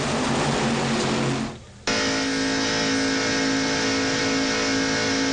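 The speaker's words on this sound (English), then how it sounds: "what Mark Martin might be trying to do is get a run on these front 2 cars" NASCAR stock cars racing around an oval track, a loud sustained engine roar with a steady tonal whine that briefly drops away, then snaps back at full strength and holds.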